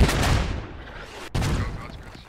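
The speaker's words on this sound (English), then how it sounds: "Oh, and now U.S. mortars coming in." Incoming U.S. mortar rounds in a tactical shooter game land as two heavy, rumbling booms about a second apart, each dying away into a long, noisy tail.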